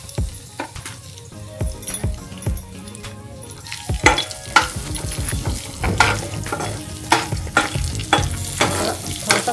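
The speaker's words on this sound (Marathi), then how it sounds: "याच्यात थोडासा ड्रायफ्रूट भाजून घेऊया आपण, कट केलेले हे ड्रायफ्रूट आहे।" Chopped dry fruits roasting and sizzling in a pan on the stove, with a spoon repeatedly stirring and scraping against the metal; busy, close clatter and crackle with no talking.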